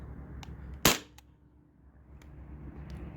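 A single sharp, loud crack from a Sabre 68 home defense launcher firing a 3.6 gram nylon ball, close up and standing alone over a low background hum.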